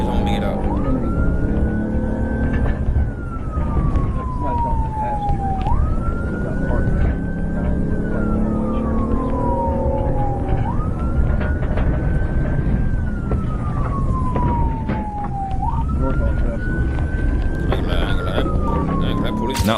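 Police car siren wailing in a slow, repeating rise-and-fall cycle about four times, loud and close over steady road and engine noise, with a voice mixed in.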